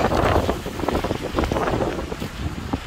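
Gusty wind buffets the microphone on the West Highland Way near Loch Lomond, a loud, uneven roar of blasts and rumbles with no voices.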